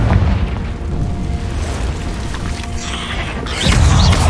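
The Confringo explosive spell from Hogwarts Legacy goes off inside a cave with loud, rumbling booms and crackling bursts, swelling again near the end.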